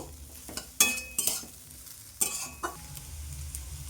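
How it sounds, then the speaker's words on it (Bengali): Ginger paste frying in a pan, with a few sharp scraping stirs of a spatula over a soft sizzle, close and clear with no talk. "এবার একটু ভাজা ভাজা করে নেব, খুব বেশিক্ষণ ভাজার দরকার নেই, আদার কাঁচা গন্ধটা চলে যাওয়া পর্যন্ত ভেজে নেব"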